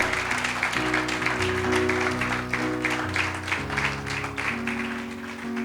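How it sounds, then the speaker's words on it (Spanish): A church congregation claps during a Spanish-language service, rhythmic applause layered over sustained organ or keyboard chords that shift underneath, moderately loud and continuous. "Dale un fuerte aplauso al Señor."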